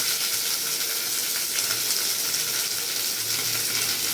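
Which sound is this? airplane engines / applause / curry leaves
curry leaves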